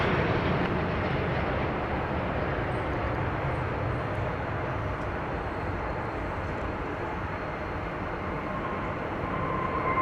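Jet aircraft landing and taking off at DFW Airport produce a continuous broad engine roar, steady and moderately loud, with no distinct breaks.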